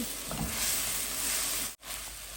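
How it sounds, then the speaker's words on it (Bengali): Spice paste with chili powder sizzles steadily in a pan while being fried down for a fish, cauliflower and potato curry, a continuous close hiss broken by one very brief dropout. "এখন মশলাটা ভালো করে কষিয়ে নিচ্ছি"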